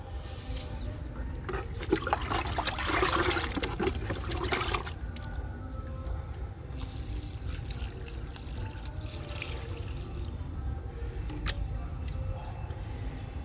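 Kitchen-waste liquid fertiliser is poured onto a curry leaf plant, making a soft trickling and splashing that comes in bursts against steady outdoor background hum, with no talking.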